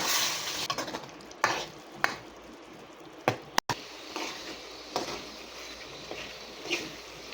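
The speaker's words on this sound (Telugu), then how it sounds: "అది వేసి పచ్చివాసన పోయేదాకా వేయించాలండి" Fresh paste from three large tomatoes frying in oil for a mushroom chicken masala curry: a constant hiss under rhythmic ladle scrapes, with one loud metallic clank partway through, near and without voices.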